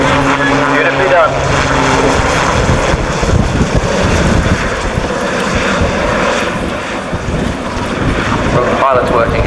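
An aircraft manoeuvring and hovering at the 1995 Leicester Airshow gives a steady, loud engine roar that fills the whole clip, with wind buffeting the microphone and a commentator talking over it.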